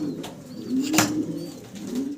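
A pair of large jet-black fancy Mundian pigeons coo softly and steadily at close range, a low rolling murmur with one brief flutter-like burst in the middle.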